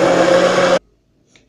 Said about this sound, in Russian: я беру блендер и все это хорошо взбиваю